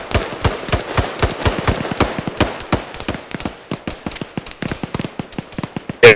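Machine gun fire in ArmA 3 SOG comes as rapid loud cracking bursts, dense at first and then thinning into scattered single shots, ending with one heavy close blast.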